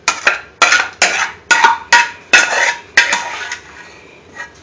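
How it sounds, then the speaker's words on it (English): Utensils clink and scrape against a small serving dish as saag paneer, spinach with Indian cheese, is spooned onto it: about seven distinct close, bright clatters in quick succession, then a faint final tap, with no talking. "the chef is going to put it nicely on a small plate"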